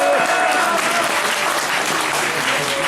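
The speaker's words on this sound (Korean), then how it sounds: "박수로 응원해 주시기" Audience at a public debate forum in a press center hall applauding, a loud, dense and continuous roar of clapping that holds evenly for the whole stretch.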